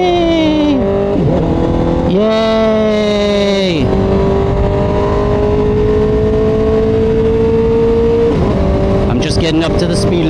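Motorcycle engine revving and accelerating while riding, loud and close with rising and falling pitch through gear changes, wind noise throughout and a rider's voice briefly heard.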